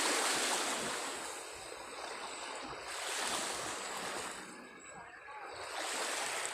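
Ocean waves of a rough sea ahead of an approaching typhoon surge and wash in a continuous broad roar, swelling and easing in slow cycles, with wind buffeting the microphone.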